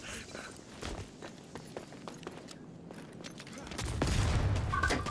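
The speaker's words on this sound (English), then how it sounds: "Grenade! Another one!" Gunfire and grenade blasts in a video game: scattered shots and bursts that build into a loud heavy explosion near the end, while players call out over the action.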